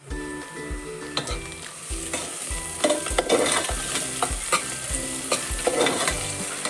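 Onion sizzles and fries in hot oil as tempering for Goan chicken xacuti, with repeated rhythmic scrapes of a spoon stirring in the pan, close and loud without talk.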